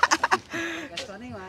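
Chickens on a Cebu farm give a quick burst of three or four close clucks, after which a voice talks briefly.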